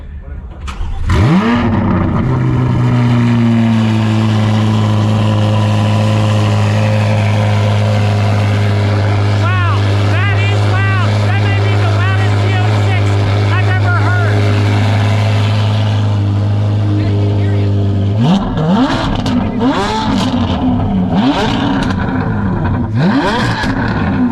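A Corvette with a sport exhaust, high-flow cats and no mufflers idles with a deep rumble, then revs repeatedly in loud, sharp bursts up close at a large Corvette gathering, with voices talking briefly near the end.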